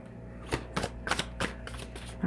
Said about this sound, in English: And I'm gonna shuffle.